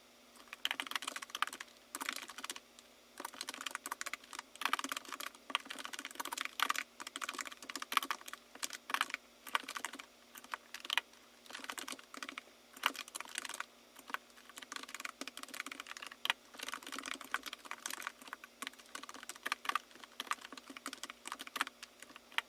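Steady typing of code on a computer keyboard, quick irregular key clicks running continuously at close range and fairly soft, with no voices.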